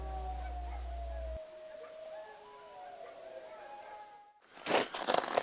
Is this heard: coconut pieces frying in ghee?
no